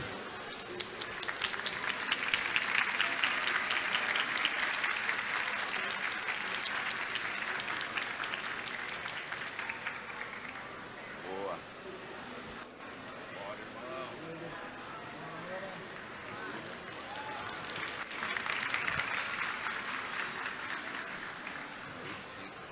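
An audience at the Arnold Talks 2023 event applauds to welcome a speaker, a long wash of clapping that swells early, eases in the middle with voices, and rises again near the end.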